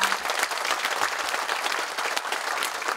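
An audience in a lecture hall at the Gyeongbuk provincial office gives loud, dense applause after a special lecture by the Daegu mayor, a sustained even burst of clapping filling the whole moment without speech.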